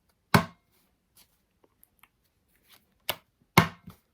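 A deck of playing cards is cut with a swing cut, giving three sharp slapping snaps of cards against cards separated by quiet pauses, with faint handling noises between.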